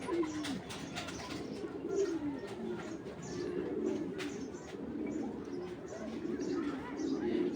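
A female pigeon coos nearby in a low, steady, continuous murmur with slight rises and falls, heard alone without talk.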